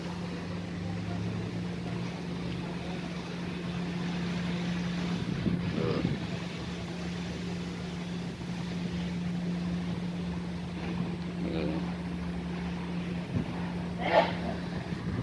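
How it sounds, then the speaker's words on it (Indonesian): Strong wind blowing at Merak ferry port under cloudy skies, a steady broadband roar of gusts and rough water with a constant low engine-like hum beneath, and a few brief knocks and creaks near the end. "Cuaca Pelabuhan Merak mendung, angin besar dan bergelombang."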